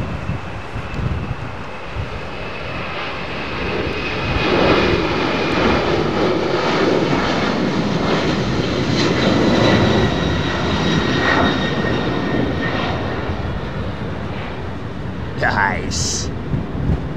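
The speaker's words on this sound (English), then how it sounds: "Oh, lovely old 767." A Boeing 767 jet airliner passing over Heathrow Airport, a loud broad engine roar that swells and holds, with people talking over it.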